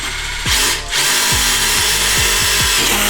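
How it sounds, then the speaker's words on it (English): A power drill drives a screw through metal framing track into a stud, giving a series of short revving bursts that wind up and cut off repeatedly, loud and close with no talking. "So we actually did drive our screw."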